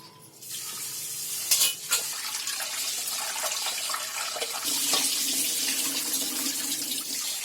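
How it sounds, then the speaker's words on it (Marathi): Running tap water splashes steadily into a vessel as grains are swished and rinsed, close by and continuous. "तांदूळ धुते आणि भात ठेवते गॅसवर"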